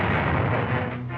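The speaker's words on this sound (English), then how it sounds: "Japanese cannons fire along a dirt road." Japanese cannons fire along a dirt road, producing a dense, continuous roar of heavy blasts that blur together at a steady, loud level without a break.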